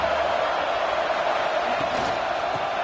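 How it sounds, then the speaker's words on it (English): Dense, steady roar of a big football stadium crowd during a home game early on, loud and unbroken with no distinct peaks. "Listen to the crowd energy here in the early going."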